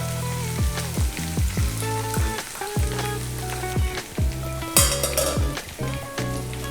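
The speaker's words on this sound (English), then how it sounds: "Can you hear that sizzle?" Hot oil poured over dried chilies and sesame seeds sizzles and crackles continuously up close, with bubbling fizz and bursts of spattering throughout.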